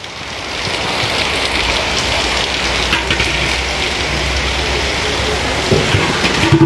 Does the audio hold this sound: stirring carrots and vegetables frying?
no